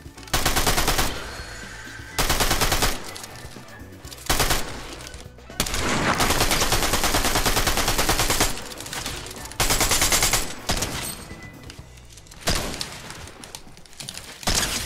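Heavy gunfire in a ranked match of the shooter game Unreal, loud bursts of rapid automatic fire broken by brief pauses, with a few single cracks and thuds between the volleys.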